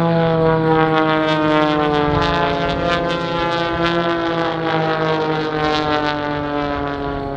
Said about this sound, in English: the remaining two aircraft will join up in formation.